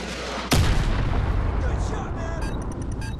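A Javelin missile slams into a tank in Call of Duty 4: Modern Warfare Remastered: one loud, sudden blast followed by a long rumbling decay with faint crackles.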